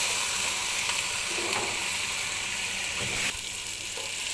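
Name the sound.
spices with nut paste and tomato sauce frying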